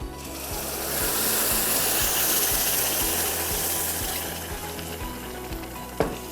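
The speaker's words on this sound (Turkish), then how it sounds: "Şimdi şerbetimiz de hazır. İçerisine ekleyelim." Sugar syrup poured into hot pan-toasted semolina for halva sets off a loud, steady sizzle and hiss that swells, then eases with faint stirring knocks and a sharp clink near the end.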